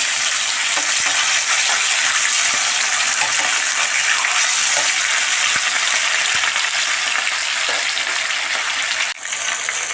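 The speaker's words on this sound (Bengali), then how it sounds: "মাছ ভাজা হয়ে গেছে মাছগুলো এবার আমি তুলে নেব" Pabda fish frying in a pan of hot oil, a steady dense sizzle running close and loud for the whole stretch with small pops throughout and a brief dip near the end.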